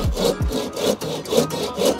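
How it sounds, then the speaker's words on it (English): A handsaw cuts through closeboard fence panel timber with steady, rhythmic back-and-forth strokes. The rasping is close and fairly loud, about four strokes in two seconds, and no one speaks. "I'm going to use a handsaw because it's a little bit safer"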